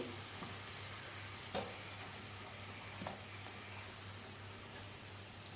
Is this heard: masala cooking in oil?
yes